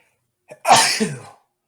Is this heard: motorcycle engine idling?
no